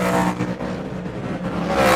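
Speedway race car on a dirt track roaring hard through turns 3 and 4, a loud sustained engine drone close by for the full moment with no pause.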